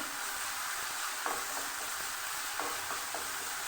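Spice paste frying in a pan for a katla fish curry with yam, a steady close hissing sizzle with a few faint clicks of stirring, no voices.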